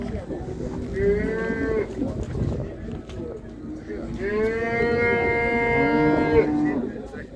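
Angus cattle at a livestock market in Beylagan give two loud, drawn-out moos close by, the second longer and rising, with crowd murmur and background voices beneath.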